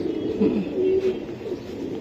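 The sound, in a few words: pigeon cooing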